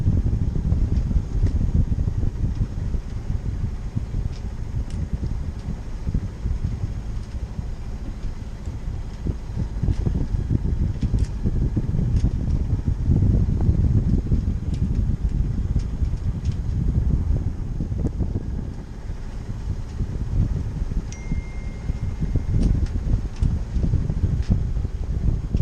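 Sailboat under engine power motoring into a headwind, with a steady low-pitched motor drone and wind rush blowing across the microphone throughout, and no voices.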